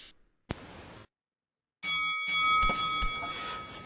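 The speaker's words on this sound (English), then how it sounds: "Yeah, ring the bell some more" A wrestling ring bell clangs repeatedly in a Second Life virtual wrestling match, with bright metallic dings that ring out and sustain between gaps of silence.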